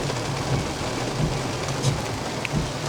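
Heavy rain pours down on an apartment complex parking lot, a dense, even roar of drops striking pavement and cars with a low rumbling undertone, loud and constant throughout.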